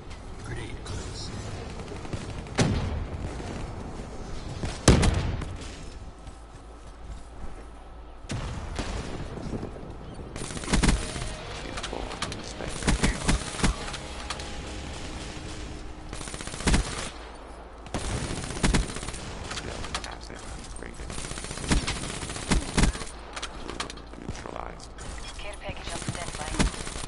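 VMP submachine gun firing in a fast-paced shooter match, repeated rapid bursts and sharp cracks over a busy game soundscape, with voices talking in places.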